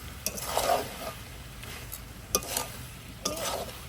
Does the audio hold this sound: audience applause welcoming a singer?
no